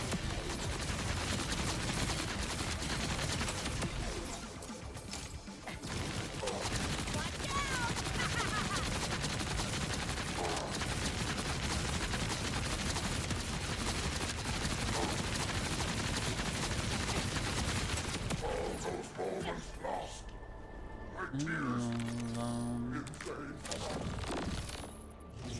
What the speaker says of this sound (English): This is a new SMG. Every 10th shot fires a projectile that returns towards the player